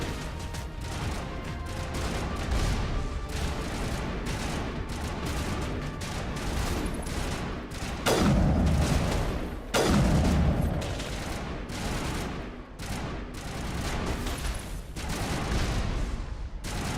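Sustained rapid gunfire in the sci-fi shooter game Mass Effect, with dense continuous bursts of weapon fire and a couple of heavier louder blasts partway through.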